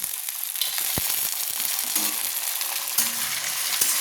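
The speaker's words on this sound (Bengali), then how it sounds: "দিয়ে দিলাম টমেটো, দেখুন একটা বড় সাইজের টমেটো কুচিয়ে রেখেছিলাম, সেটা আমি দিয়ে দিলাম।" Chopped tomato is stirred into a frying hatchery chicken curry: a steady, close hiss of sizzling oil with a few soft spoon scrapes and a light knock of the utensil against the pan.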